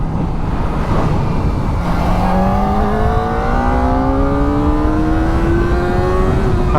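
A Kawasaki Ninja ZX4RR motorcycle accelerates hard, its engine note climbing steadily through the revs in a loud, continuous rising whine with a rough rumble underneath.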